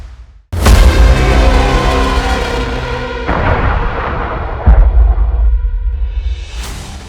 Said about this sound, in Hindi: इसकी वजह से लेबनान में धमाके होने लगे